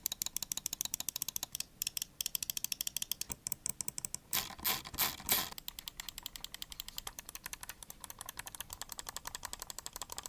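Sharp, evenly spaced clicks from a Razer Basilisk V3 Pro wireless mouse with Gen-3 optical switches, dozens in quick succession with a short louder burst midway, close and crisp with no talking.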